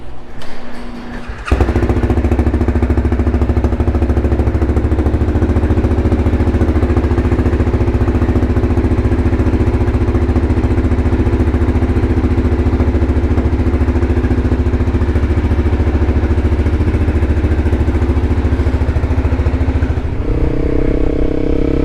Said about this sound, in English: rev bombing is one of the dumbest things you can do on a motorcycle